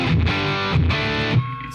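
An electric guitar is played through a REVV distortion pedal with its aggression switch engaged, giving loud, thick, heavily saturated chords that ring out in short bursts.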